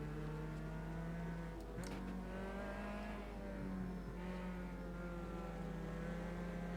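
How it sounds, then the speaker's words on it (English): A car cruising to the pit lane in the Automobilista 2 VR racing simulator, a steady droning engine with layered harmonic whine that dips and rises briefly as it shifts, held at an even level without speech. "We're just going to cruise to the pit lane to finish the race."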